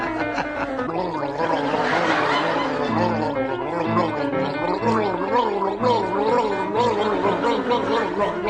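A man gargles the melody of Flight of the Bumblebee on a radio comedy panel show, a continuous wet, bubbling warble with rising and falling pitch held steady and close for the whole stretch.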